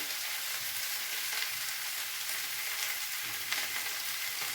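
Okra, onion and green chilies fry in hot oil with a steady, dense sizzle that holds at an even level throughout, close and unbroken, with no voices over it.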